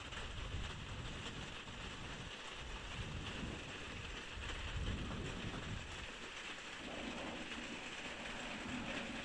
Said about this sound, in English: If you like the sound of rain, this is going to be heaven for you.